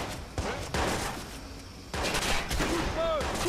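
Several bursts of gunfire in the game Watch Dogs crack out amid a busy battle soundscape, with voices calling out over the shooting.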